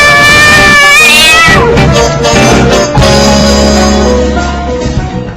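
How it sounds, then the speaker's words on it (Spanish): A cat shut inside somewhere, meowing and caterwauling loudly in long drawn-out wails, with a steady background hum throughout. "Es el gato. Hay otro gato encerrado por ahí."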